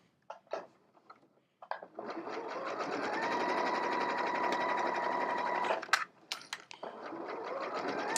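A sewing machine runs steadily for several seconds, stitching fabric with a zipper foot on a zip pouch, between brief handling clicks; close and fairly quiet, with no talking.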